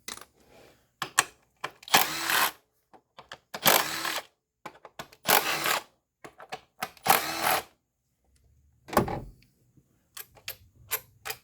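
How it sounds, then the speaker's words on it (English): Coil pack 10mm bolts being removed from a 2015 Honda Accord 4-cylinder engine during valve cover replacement: repeated short bursts of ratcheting and metallic clicking, close and fairly loud, separated by quiet gaps. "Now we've got to remove the coil packs, 10mm bolts."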